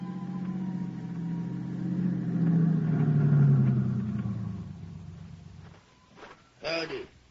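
A car engine rumbles and hums as it climbs a mountain road toward a camp, swelling in the middle and then fading, and a voice cuts in briefly at the end.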